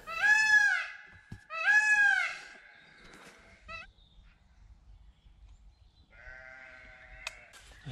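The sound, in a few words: peacock calling in the background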